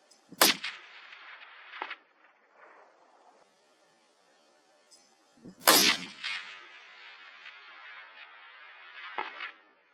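Rifle gunshots on a hunting safari, two sharp loud cracks about five seconds apart, each followed by a rolling echo that fades over the open bush, with quiet outdoor background between them.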